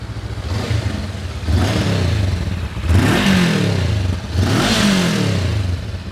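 Honda NX500 motorcycle revving with a raspy, crackling exhaust. Three loud, close blips climb and drop in succession, and the rasp is clear as the revs fall away. No one speaks.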